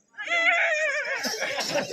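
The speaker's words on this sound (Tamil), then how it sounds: "அஸ்வம் என்று சொல்லக்கூடிய புறவி வந்து கொண்டிருக்கிறது" A horse neighs loudly and close by, a single drawn-out whinny of about two seconds that breaks into rougher fluttering toward the end, heard during a staged Tamil drama performance about Lava and Kusa.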